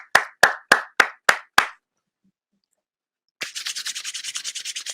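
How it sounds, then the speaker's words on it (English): A few people clapping in a small audience: six sharp, evenly spaced claps, a pause of silence, then a denser burst of quicker overlapping claps close by. "Give him a round of applause."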